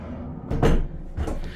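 A VEVOR 36 x 84 inch sliding barn door rolls and knocks against its stop bumper, giving one solid thud followed by a softer second bump, close and clear with no talk.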